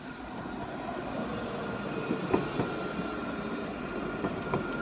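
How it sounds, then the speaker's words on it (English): Nottingham tram 223 pulls into platform 2 at David Lane tram stop, a steady rolling rumble with faint squeals and clicks from the wheels and a few light knocks, heard from nearby at moderate level without talk. "About to arrive on platform number 2 at David's Lane tram stop."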